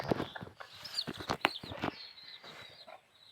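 Hens cluck in short, irregular bursts close by, with scattered sharper clucks and scratching noises and quieter moments between calls.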